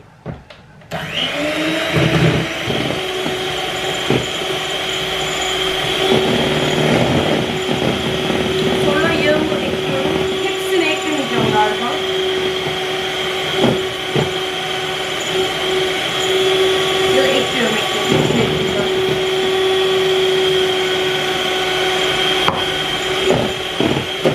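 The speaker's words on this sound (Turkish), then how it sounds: "Şunu bir şöyle bir çırpacağım." An electric mixer whisks ingredients in a kitchen, running as a continuous close whir with occasional knocks against the bowl, while a person talks over it now and then.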